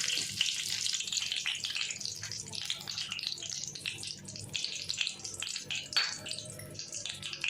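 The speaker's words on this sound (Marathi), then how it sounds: "आता या तेलामध्ये मी काही खडे मसाले टाकणार आहे। दालचिनी टाकलेली, त्याच्यामध्ये 5-6 लवंग टाकले आणि थोडेसे मिरे।" Whole cinnamon, five or six cloves and black peppercorns sizzle steadily in hot oil for a vegetable pulao, a close, continuous crackling hiss with small popping bursts throughout and no talking.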